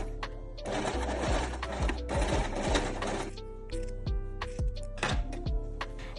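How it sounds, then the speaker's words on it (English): A sewing machine stitches across the diagonal of folded bias binding for a dress, running in two steady bursts of rapid whirring, then pausing amid soft clicks and handling of fabric before a brief final run. "Now stitch across the diagonal of the square and trim the excess fabric."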